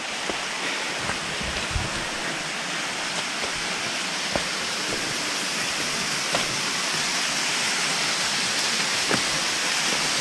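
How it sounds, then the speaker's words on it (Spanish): A small waterfall in a ravine pours steadily, a continuous close hiss of falling water with occasional faint splashes, no voices. "acá es la cascadita más grande"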